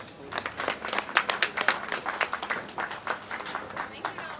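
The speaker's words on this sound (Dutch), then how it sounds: "Dames en heren, u daarvoor applaus." Applause from spectators at a women's youth cycling race in Heule, a steady patter of clapping hands that swells and fades over a few seconds, with a voice talking faintly underneath.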